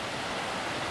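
Constant heavy roar of water pouring down at Kurokuma Waterfall in the Shirakami Mountains, Aomori, close and loud in a brief uniform rush.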